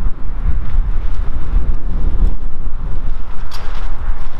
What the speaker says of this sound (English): boy, you got a lot of wind going on today